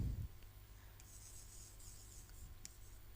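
Pen writing out a trigonometry solution on paper, a faint steady scratching over quiet background hum with a few small taps.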